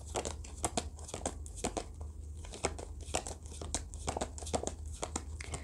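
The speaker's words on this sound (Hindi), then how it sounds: "पहले हम सारे कार्ड्स निकाल लेते हैं।" Tarot cards being pulled out and handled, giving quiet crinkling, rustling and tearing-like flicks in quick irregular bursts throughout, with no talk.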